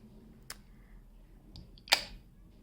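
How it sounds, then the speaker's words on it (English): Perfume sprayed onto a hand: a short sharp spritz, then a louder second burst a moment later, close by with a quiet room behind it. "I'm gonna just spray my hand here."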